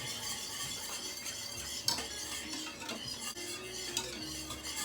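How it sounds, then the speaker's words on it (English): Cheese sauce being stirred in a pot after milk is poured in, with a steady soft scraping and swishing and occasional light clinks of a utensil against the pot, close and moderately quiet throughout. "And you just continue to stir."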